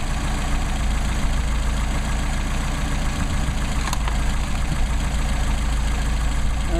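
A Mercedes 190SL engine on Solex 44PHH carburetors idles steadily and close by, a low, even rumble with a continuous throb and no talking over it.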